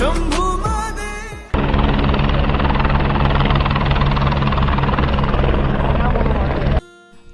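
A helicopter at the Kedarnath helipad: a loud, steady rotor and engine drone with a rapid pulsing chop, lasting most of the clip, with a person speaking just before it begins.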